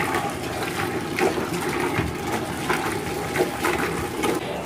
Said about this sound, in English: I just sort of let the bubbles and the hot water kind of cascade over the side once it gets full